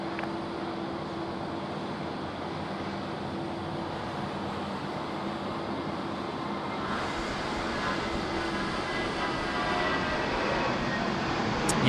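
A Qantas passenger plane lands on runway 34 left at Sydney Airport, a broad, steady jet roar that holds at a distance and then grows slightly louder and fuller toward the end.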